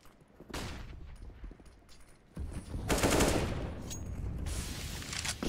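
Rapid bursts of AK rifle fire in a Counter-Strike match, loud and close, firing in clustered volleys with brief gaps, gunshots dense and repeated across the span.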